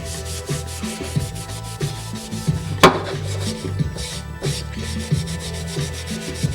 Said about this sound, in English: take a quadruple aught steel wool, rub it in the paste wax, you get a good amount on there, and just rub it in